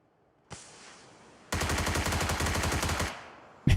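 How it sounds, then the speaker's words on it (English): Rapid SMG spray from an automatic weapon in the game PUBG: a single shot, then a sustained rattling burst of fast, evenly spaced shots lasting about a second and a half, loud and close, followed by another sharp report. "He just gets SMG sprayed."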